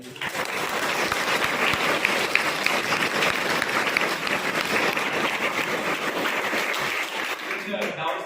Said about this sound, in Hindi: प्लीज मैं सर के लिए चाहूँगा कि आप जोरदार ताली बजाएंगे